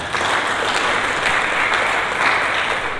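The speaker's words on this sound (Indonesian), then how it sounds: "Berikan tepuk tangan bagi kita" Applause from a church congregation during a sermon, dense and steady clapping that fills the whole moment without a break.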